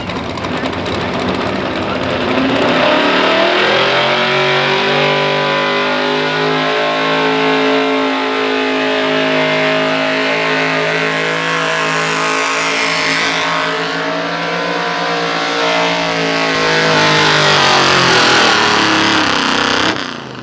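A tow tractor at a truck pull event at a steam and antique show in McConnellsburg, PA, roars loudly with a sustained, rising engine rev, holding near-constant intensity with a harmonic drone and swelling again toward the end.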